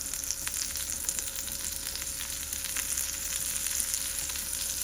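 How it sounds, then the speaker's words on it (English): Dandelion leaves sizzle steadily in butter in a pan, a continuous close frying hiss with small crackles throughout, no voices. "I'm gonna crisp fry the dandelion leaves too."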